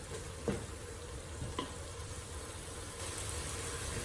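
Curry masala for turnip curry fries in oil while being stirred, a low continuous sizzle with a couple of soft spoon knocks, fairly quiet and steady.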